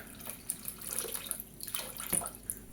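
Water poured into a basin of cassava, a soft continuous splashing and trickling with small sloshes, fairly quiet and without talk.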